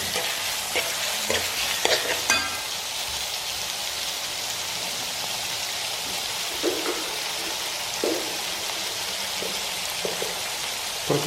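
Curry leaves frying in hot oil for cashew nut curry, a continuous rain-like sizzle with occasional scraping stirs of a spoon against the pan, steady and close with no speech.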